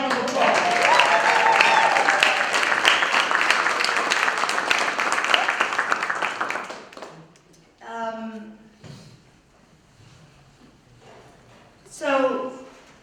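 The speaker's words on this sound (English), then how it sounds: "So give yourselves a round of applause." A community tribute event audience bursts into sustained loud applause for about seven seconds, then it fades into scattered claps and cheers with a few voices talking.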